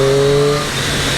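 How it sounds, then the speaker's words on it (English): Triumph Street Triple 660 S motorcycle, a triple-cylinder engine, gives a loud, close exhaust note with a steady harmonic drone that fades slightly after half a second. There is no talking. "this exhaust note is tremendous"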